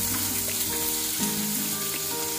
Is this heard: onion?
yes